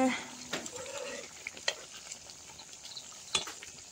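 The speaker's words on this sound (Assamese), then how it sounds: "ইয়া উতলি আছে" Chicken curry without masala simmering in a covered pot on a home stove, a soft bubbling sizzle broken by a few sharp clinks of utensils against the pot.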